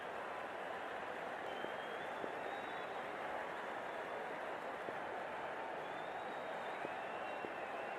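In a cricket video game, a stadium crowd murmurs and applauds as a steady, faint wash of noise before the first ball, with no distinct peaks.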